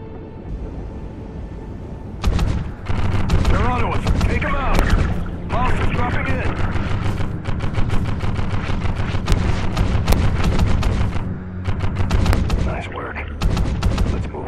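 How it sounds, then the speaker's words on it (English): Underwater gunfire in the video game Call of Duty: Ghosts comes as dull, muffled bursts of shots and booms, loud and repeated, mixed with game voices talking. "bullets aren't as effective underwater. It'll take 2 or 3 before they're out."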